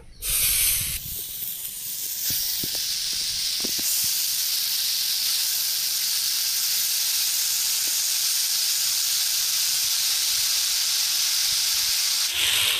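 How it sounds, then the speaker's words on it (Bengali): Water spinach (kalmi greens) steaming in a pot gives off a steady, loud hiss of steam that holds for the whole stretch, with a few faint clinks early on and no talking. "এবার কলমি শাকগুলো ভাপিয়ে নেব।"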